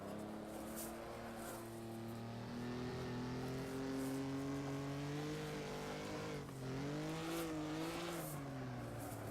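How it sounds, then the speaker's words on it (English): A race car engine in Assetto Corsa holds a steady, loud revving drone that climbs and dips with throttle blips as the rear wheels break loose into a drift, with no voices over it. "Just trying to blip the throttle and unlock those rear wheels."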